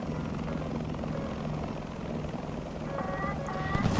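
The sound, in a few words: Tiger UHT helicopter flying in War Thunder video game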